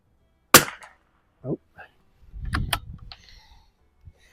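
An Anschutz 1827 biathlon rifle fires at a 50-yard target, one sharp crack followed by a few softer clicks and a short burst of mechanical rattling, like the action being cycled.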